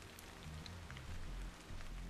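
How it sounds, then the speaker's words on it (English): Steady rain falls in the sci-fi action game Stellar Blade, a dense even hiss of drops on surfaces with a low rumbling bed underneath, continuous and fairly close, with no talking. "This must be Earth's rain."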